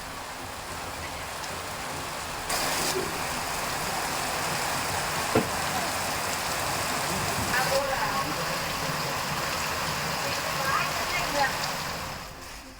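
Steady broadband hiss of heavy rain falling in a Tamil Nadu district, continuous and fairly loud throughout, with a few faint knocks and no voices.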